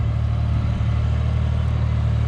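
Close by, a nearly new New Holland T580B tractor, rated at 55 horsepower with a 2200 kg lift capacity and carrying a leveling blade, idles with a steady low pulsing engine rumble and a brief faint knock midway.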